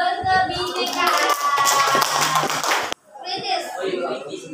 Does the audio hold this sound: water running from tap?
no